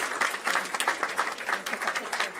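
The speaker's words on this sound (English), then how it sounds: "can we applaud all these students receiving the jackets and the Optimist Club?" Steady clapping from a board meeting audience for students receiving jackets from the Optimist Club, a moderately loud patter of many hands with individual claps audible.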